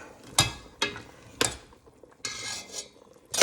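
Metal cutlery and utensils clatter as a big spoon is pulled out while vegetable soup cooks, several sharp clinks and rattles spaced apart, close by.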